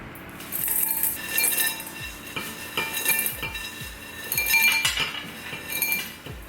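A glass vase or jar is handled while potting up golden pothos cuttings, giving light clinks and taps of glass against hard surfaces amid soft handling noise, repeated several times at close range with no talking.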